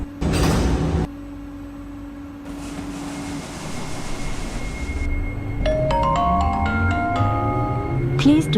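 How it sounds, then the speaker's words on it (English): Simulated rapid-transit train doors close in an OpenBVE rail game, a mechanical creak and hiss followed by sliding thuds, then rising motor whine as the train pulls away, with a recorded announcement voice heard briefly. "Doors are closing."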